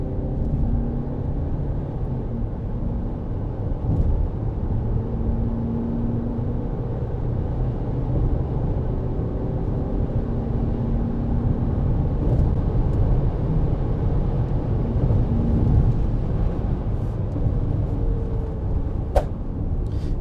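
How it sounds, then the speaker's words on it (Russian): A 2018 Land Rover Discovery Sport diesel accelerating hard with the pedal floored, its engine a loud, steady rumbling drone heard from inside the cabin and holding without a break. "Педаль в пол. Ну, вы сами видите, как автомобиль разгоняется."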